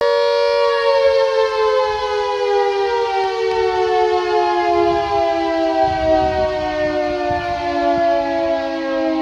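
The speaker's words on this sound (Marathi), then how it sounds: "या ठिकाणी सायरन वाजवण्यात आले" Civil defense sirens sounding during a mock emergency drill at industrial sites, a loud sustained multi-tone wail that glides slowly downward and holds for the whole stretch, with no talk.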